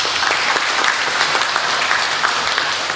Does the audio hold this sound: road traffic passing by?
no